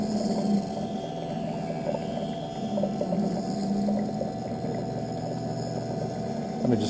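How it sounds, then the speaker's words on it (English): Water runs and splashes steadily at close range, a continuous wet hiss over a low mechanical hum, with no voices. "if I can keep some of that water from splashing up"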